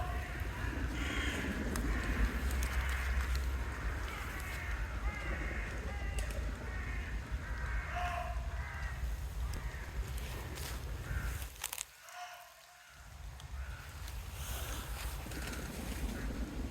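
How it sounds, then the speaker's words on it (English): Birds call and caw busily in woods at night over a steady windy, watery rumble, with a brief near-silent gap partway through before the calls resume. "The birds are going crazy."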